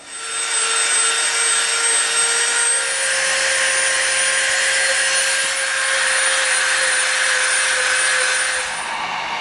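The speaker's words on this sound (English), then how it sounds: "we're going to round all the edges off with the Dremel" Dremel rotary tool rounding the edges of EVA foam for a medieval mace, a steady high-pitched motor whine with a sustained tone, running continuously and fairly loud throughout, no talking.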